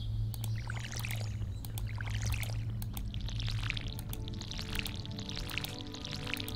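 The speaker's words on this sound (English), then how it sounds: "now I can just sit here and pour from this one spot without moving around" Watering can pouring in Stardew Valley on PC, a steady splashing water pour with soft droplet patter and game music underneath, continuous throughout.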